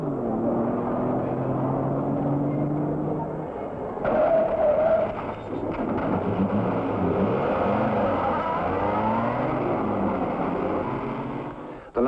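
Vintage racing cars of the 1953 Mille Miglia roar at the last control before Brescia, engines droning and revving continuously, with a sharp surge as one accelerates and passes near.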